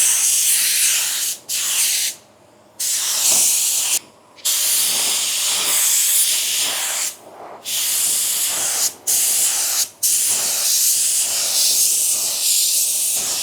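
A spray gun laying a pearl coat of paint on a car hisses loudly in long bursts, stopping briefly between passes for about six short pauses, close and alone.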